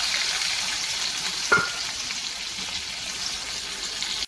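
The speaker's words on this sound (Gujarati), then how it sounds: "મિત્રો એમાં આપણે ઝીણી સમારેલી એક ડુંગળી એડ કરી દઈશું" Finely chopped onion frying in hot butter and oil, a steady, even sizzle throughout, broken once by a brief knock of a utensil against the pan.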